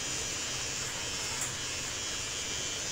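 An electric hair trimmer runs close by during a boy's V-shave haircut, giving a steady, even buzz that continues without a break and with no talking over it.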